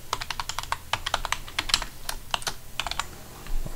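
Password typed on a computer keyboard, a quick close run of light key clicks in uneven bursts with no talking.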